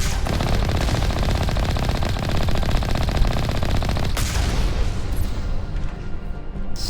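A turret in the Mass Effect video game fires in a sustained automatic burst, dense loud rapid gunfire running continuously, with a sharp impact thud partway through and a brief pop near the end.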